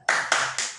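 Children clap three quick, sharp claps in a short rhythmic burst, close and bright with no voices.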